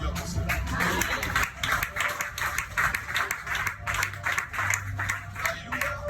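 A church congregation claps together in steady, rhythmic acclamation, a dense, loud wave of hand claps filling the room throughout.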